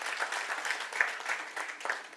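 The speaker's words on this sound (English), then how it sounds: "I think my chair deserves another round of applause." Audience applause for the chair at a formal meeting: a short, soft burst of clapping from a modest crowd, heard at moderate distance and fading out quickly.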